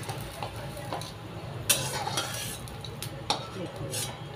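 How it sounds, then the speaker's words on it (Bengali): Fried bitter gourd pieces lifted out of hot cooking oil, giving a steady soft sizzle with light scraping and a few clinks of a utensil against the pan. "এবারে ভালো করে তেল ঝরিয়ে আমি এটা তুলে নেব"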